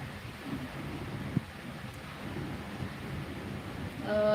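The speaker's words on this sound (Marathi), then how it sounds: "पाऊस आहे कालपासूनच आहे आमच्या इथे" Rain falls steadily during a thunderstorm, a soft, even patter with a low distant rumble of thunder, heard quietly and without talking.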